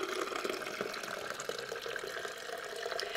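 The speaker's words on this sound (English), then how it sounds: "Then you're going to pour that into the reservoir like so." Cold water poured from a carafe into the reservoir of a Cuisinart coffeemaker, a steady close trickling splash with light bubbling that runs unbroken and alone for a few seconds.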